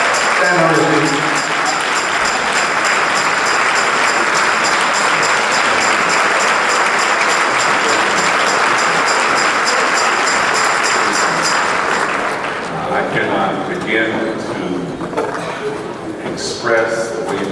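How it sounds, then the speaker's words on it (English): A church congregation claps for a bishop at a gathering, loud sustained applause filling the room for several seconds before it fades and a voice starts speaking. "Give him a hand clap of praise."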